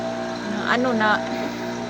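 A water pump motor hums steadily while running without yet drawing up water, a close, droning tone that holds level, with someone talking over it.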